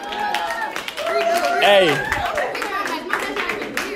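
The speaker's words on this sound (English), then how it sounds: "Everybody go ahead and clap it up for me" A small group of young women clap at a matchmaking game event in Columbus, Ohio, the claps quick and uneven under loud overlapping talk and a shout.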